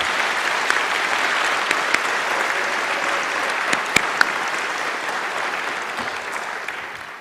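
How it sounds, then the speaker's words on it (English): An audience at a University of Oklahoma international studies convocation applauds the faculty members. The clapping is steady and sustained, a dense wash of many hands that holds at an even level for over seven seconds. "Can we have a round of applause for our great faculty members?"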